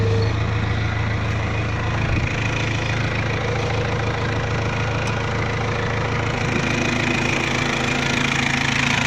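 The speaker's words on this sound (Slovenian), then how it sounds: "Tlele noter je pa Perkinsov motor, dizel." A Perkins diesel engine in a Clark CDP 30 forklift runs steadily at idle, a continuous close, loud rumble with a low droning hum and no talking.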